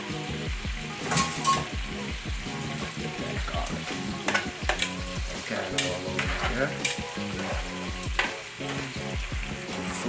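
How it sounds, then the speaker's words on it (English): Quail pieces braising over medium heat with garlic and thyme, a steady close sizzle under repeated scraping and stirring strokes in the pan. "This is on medium heat because now we're braising it."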